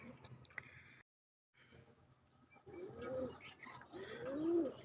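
Domestic pigeons coo softly nearby, with low, throaty rolling calls repeating in the second half after a brief silent gap, over faint background rustle.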